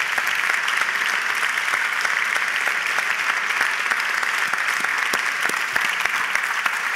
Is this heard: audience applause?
yes